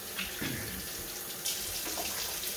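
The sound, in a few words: water running from tap while washing hands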